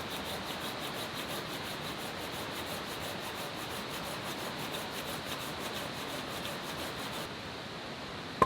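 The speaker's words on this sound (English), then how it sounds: "sawn everything up. Oh, that's hard work because it's hardwood." A hand saw cuts through hardwood beech logs at a rain-and-snow campsite, a continuous rasping stroke-by-stroke rhythm at moderate volume that runs steadily and stops abruptly near the end.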